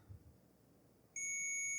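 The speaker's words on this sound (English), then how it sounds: "we do have a beep" A continuity tester on a game console circuit board gives a single steady electronic beep that sounds suddenly after a quiet stretch and holds on to the end.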